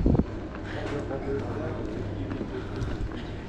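Strong, steady wind buffets the microphone outdoors beside an island castle, a continuous low rumble with gusty swells that runs loud from start to finish.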